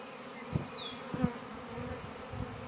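Honey bees buzz close by during a hive inspection in a soft, continuous drone, with a few dull knocks and thumps standing out.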